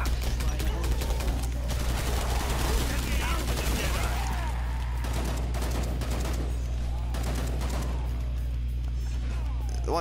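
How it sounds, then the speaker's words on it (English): Video game gunfire cracks in dense rapid bursts over a heavy constant low rumble, loud and continuous for several seconds, with a voice speaking underneath. "the bullet and gunfire may be drowning my voice out at times"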